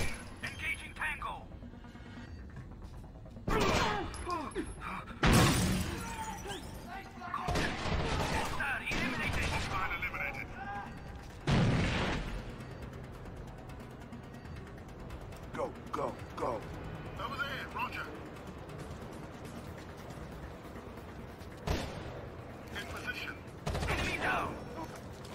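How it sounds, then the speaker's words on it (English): Bursts of tactical gunfire in Rainbow Six Vegas 2, several loud sharp volleys scattered across the stretch with squad radio chatter and talk between them. "Nice shooting."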